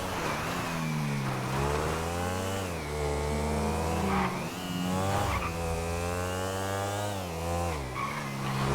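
GTA V motorbike engine revving up and down in repeated swells, a loud, steady tonal drone with rising and falling pitch, no voices.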